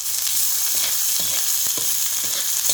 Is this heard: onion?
yes